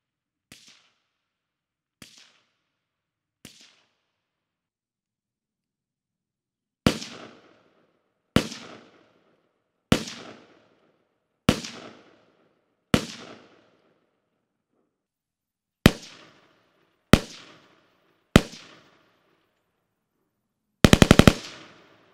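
A Talon 905 fired outdoors in a sound test, very loud sharp cracks: a few faint distant shots, then a series of loud single reports spaced a second or two apart, ending in a rapid burst.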